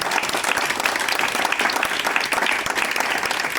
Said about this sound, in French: Alors il ne nous reste plus qu'à applaudir nos intervenants.